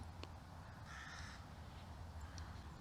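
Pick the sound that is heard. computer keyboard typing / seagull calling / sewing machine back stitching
seagull calling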